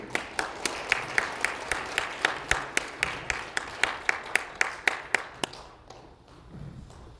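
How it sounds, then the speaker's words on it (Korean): A church congregation claps in welcome during a Sunday worship service, a steady rhythmic beat of unison claps, close and clear, that runs for several seconds and then stops abruptly. "우리 박수로 환영하겠습니다"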